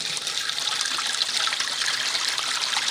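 Steady rushing water sprays and trickles through gold mining equipment, rinsing dirt out at a gold mine; loud, continuous and close, with no voices.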